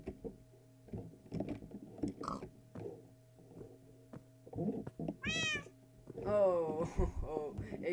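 A cat in the Minecraft video game meows twice in rising, drawn-out calls, clear and close, amid soft game sounds and clicks with faint background noise.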